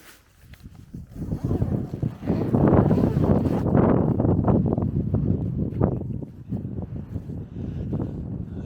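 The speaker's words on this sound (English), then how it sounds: "The wind's getting up." Wind gusts and buffets the microphone at a campsite beside a mushroom-shaped rock, a loud, fluctuating low roar that swells after a quiet start and keeps rumbling throughout.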